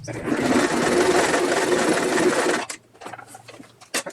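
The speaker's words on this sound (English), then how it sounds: "I backstitch across this seam here to keep it from coming undone." A sewing machine runs steadily for a couple of seconds while backstitching across a seam in backpack fabric, then stops abruptly, leaving a few soft handling clicks.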